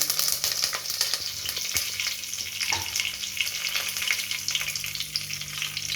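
Cinnamon, cloves, cardamom, cumin, bay leaf and curry leaves fry in hot oil for pulao, a continuous close crackling sizzle with small sharp pops scattered throughout and no voices.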